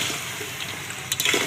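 A small splash of water poured into a pan of simmering fish curry, a short soft pour and trickle over steady kitchen background, with a brief brighter splash near the end.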